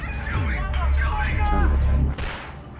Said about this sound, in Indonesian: lalu terdengar suara tembakan